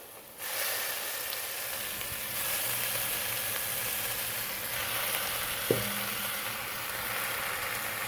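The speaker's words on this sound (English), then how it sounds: "Now I'm going to start to add the greens in." Vegetarian greens going into a big pot, hissing and sizzling loudly and steadily, with a brief clank of a utensil partway through.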